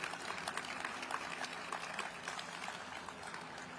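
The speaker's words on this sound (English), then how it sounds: "Please give him one more round of applause." An audience at a government funding agreement signing claps, a sustained, fairly faint patter of many hands with no speech over it.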